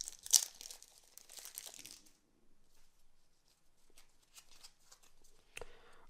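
Crinkling of a Cardfight!! Vanguard mystery card pack wrapper being torn open up close, a loud burst of crackling plastic at the start, then quieter rustling and handling of the foil.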